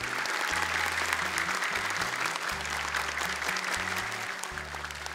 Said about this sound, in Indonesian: Boleh tepuk tangan dan semangat dulu untuk mereka.